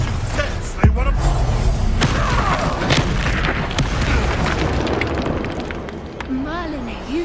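A Bombarda blasting spell explodes during combat in the video game Hogwarts Legacy: heavy booms and thuds mixed with whooshing spell effects and a dense battle din, with voices under the clash.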